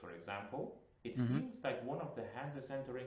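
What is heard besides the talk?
No distinct noise like a dog, phone or traffic.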